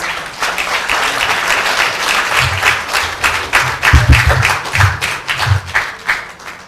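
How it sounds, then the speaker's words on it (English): A graduation ceremony audience breaks into loud, sustained applause and clapping lasting several seconds, with a few cheers near the middle. "Let's give ourselves a big loud round of applause."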